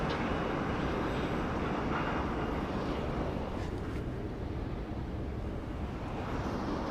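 An Airbus A321 airliner departing Sydney Airport, a steady, loud broadband engine roar that fills the whole stretch without a break, with no talk.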